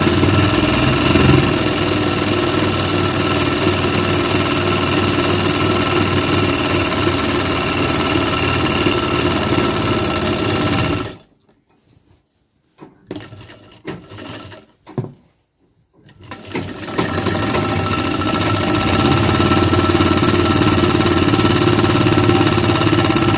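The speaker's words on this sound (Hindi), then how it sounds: "इधर ही में डबल सिलाई मार लें।" A tailor's sewing machine runs a double seam on a pair of trousers with a loud, steady mechanical whirr. It stops for about five seconds midway, with a few faint handling sounds, then starts up again and keeps running.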